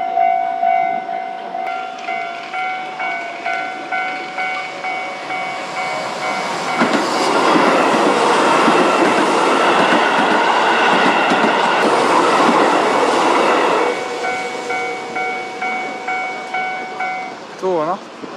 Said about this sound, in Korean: 오, 기차 온다, 기차, 기차, 기차.